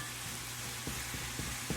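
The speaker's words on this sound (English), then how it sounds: "The pan is really hot, and the meat's here, and it will brown where the meat is touching the pan." Ground beef browns in a very hot pan with a soft, constant sizzle, and a few light scrapes or stirs break through near the end of the brief moment.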